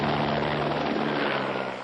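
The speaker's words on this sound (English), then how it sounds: "legendary helicopter pilot Chopper Bob Tur" A news helicopter flies overhead during coverage of a high-speed pursuit, its rotor and engine making a loud, steady, broadband roar that carries through the whole stretch without a break.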